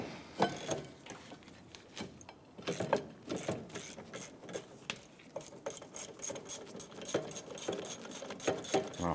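Rapid ratchet clicking close up as the upper caliper bracket bolt is loosened on a 2005-2007 Ford Five Hundred during a rear brake job, steady bursts of pawl ticks repeating throughout with no talk.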